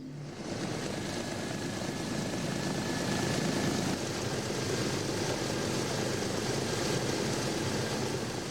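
A South African Airways DC-4 propeller airliner drones steadily in flight, a dense, continuous engine roar heard from the cabin with no breaks.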